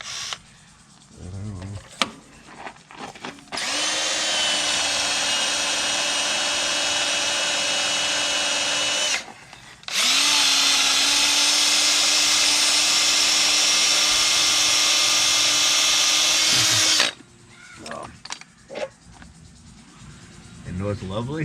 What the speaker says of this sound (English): I'm going to try another drill, but it's having a hell of a time drilling it too